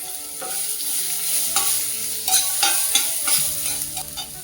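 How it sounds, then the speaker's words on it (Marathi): Green chillies and chopped onion sauté in a pan with a loud, close sizzle, while a spatula scrapes and stirs in repeated strokes; no voices. "ह्या मिरच्या परतून घ्यायच्या हिरवी मिरची त्याच्यानंतर आपला कांदा"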